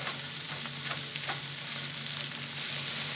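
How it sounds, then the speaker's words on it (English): Ground beef frying in a pan, a steady close sizzle with occasional scraping and stirring clicks, even and continuous with no talking. "we're going to give it another couple minutes here in the fry pan"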